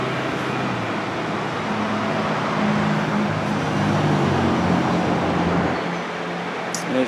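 A clean 3.5-litre V6 car engine idles steadily under an open hood, a close, continuous broadband rumble with no talk over it.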